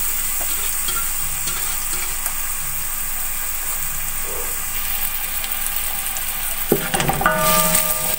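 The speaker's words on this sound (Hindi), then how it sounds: "अब प्याज को मैं हल्की आंच पे ब्राउन कर लूंगी।" Long-cut onions browning in a pan over low heat give a steady, soft sizzle throughout, with a brief louder clatter of stirring near the end; no one speaks.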